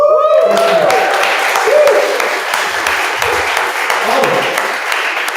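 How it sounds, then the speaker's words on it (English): An audience at a web development demo day applauds, clapping rising at first and then fading, with a voice speaking over the start. "Round of applause, please."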